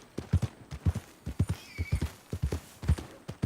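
Hooves of a horse in Red Dead Redemption 2 clip-clop in a quick, steady walking rhythm, close and distinct, with a faint whinny partway through.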